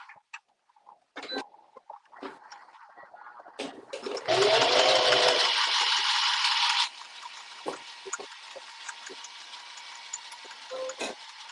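A sewing machine stitches elastic for a Foxie Boxie sew-along, running in one loud, steady burst of about two and a half seconds amid soft clicks and handling noises before and after.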